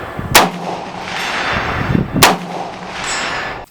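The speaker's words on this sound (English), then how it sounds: "We've been at the range today shooting the Gilboa M43" Two loud, sharp gunshots from a Gilboa M43 AR-15 rifle in 7.62x39 crack out at an outdoor range, each followed by a brief echoing rumble, with a lower hollow thump between them.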